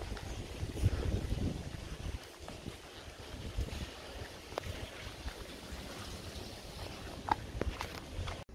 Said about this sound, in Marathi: वारं तर केवढं वारं खूप आहे, भयंकर वारं सुटलंय.